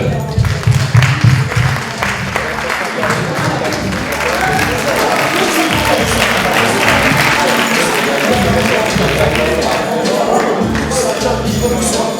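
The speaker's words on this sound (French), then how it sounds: "On applaudit s'il vous plaît." An audience claps at a sports tournament prize-giving, the applause building into a sustained roar of hands with low murmuring voices and some shuffling underneath.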